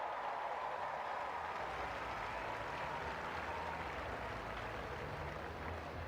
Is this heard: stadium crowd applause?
yes